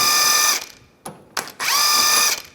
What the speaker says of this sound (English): Just gonna hold the inner tie rod in and use a 24mm socket.